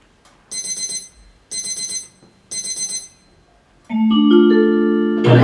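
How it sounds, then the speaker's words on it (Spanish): An alarm clock rings in three short bursts of rapid, high-pitched bell-like beeping, then a sustained, louder tonal chime rises and holds. "Eso es un despertador."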